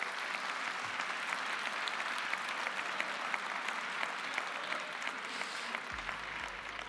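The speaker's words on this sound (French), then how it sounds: "Vous pouvez vous applaudir," Graduating students at a diploma ceremony in a large convention hall fill the room with dense, steady applause, continuous and loud throughout, with a low rumble rising near the end.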